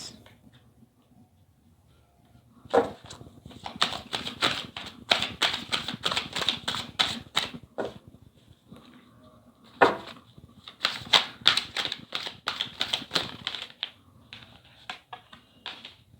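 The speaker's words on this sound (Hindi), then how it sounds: "Let me shuffle universe, let me shuffle." Tarot cards are shuffled by hand in two long bursts of rapid, crisp riffling clicks close to the microphone, with a short pause between them and quiet before the first burst.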